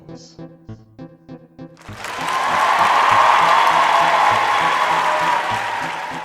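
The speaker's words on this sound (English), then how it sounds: "Wait for applause." An audience breaks into applause after a few beats of plucked music, a broad wash of many clapping hands that swells quickly and holds loud and steady, fading slightly toward the end.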